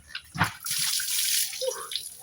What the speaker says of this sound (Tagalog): Maliligo na rin tayo sa ulan.